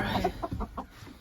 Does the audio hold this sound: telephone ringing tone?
no